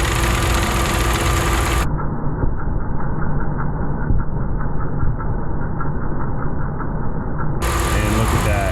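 A car engine runs steadily with its radiator fan deliberately obstructed and no fan clutch fitted, a constant mid-low droning hum that goes on throughout, with the upper range briefly dropping away before returning.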